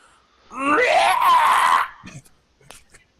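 A player's voice imitates a character's scream, a loud, strained wailing cry that rises and wavers for over a second before breaking off into a few quiet breathy sounds.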